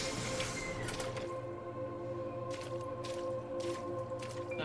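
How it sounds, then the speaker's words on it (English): Wet, squishing footsteps through shallow puddles in the video game Eternights, a few soft splashes spread over steady ambient game music and a low hum. "It sounds like we're stepping in like puddles."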